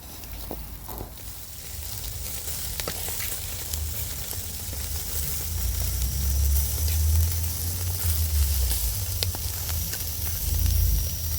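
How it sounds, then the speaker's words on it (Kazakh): Young lamb shashlik grilling over heat, giving a continuous close sizzle and hiss with scattered pops and crackles and a low rumble beneath, steady throughout. "О, ништяк қуырылып жатыр"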